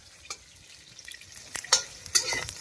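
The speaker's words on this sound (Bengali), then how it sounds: "ফুলকপিগুলো দেখুন কিরকম ভাজা হচ্ছে, দেখেছেন?" Cauliflower pieces frying in hot oil on an open rooftop in cold weather: a steady low sizzle broken by sharp crackles and spatters, with occasional stirring, close and fairly loud.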